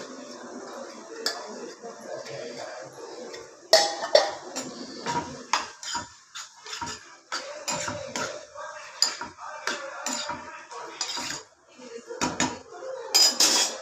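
Boiled, peeled and chopped potatoes go into a pot of vegetable kurma in a home kitchen, with a run of clattering pot and utensil knocks, spoon scrapes and clinks, fairly close and with no talk.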